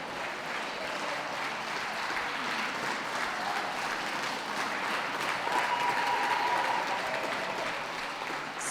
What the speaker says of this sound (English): please can we give a round of applause to those leaving the ring.